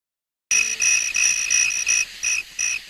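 Dense chorus of crickets chirping in steady pulsed trills, many insects at once, loud and continuous with rhythmic bursts, no voices.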